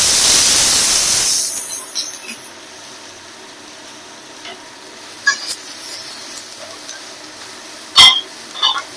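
Chopped onions drop into a pan with fried pomfret fish, setting off a loud burst of hissing sizzle that quickly settles into a quiet simmer, marked by occasional sharp clinks of a utensil against the pan.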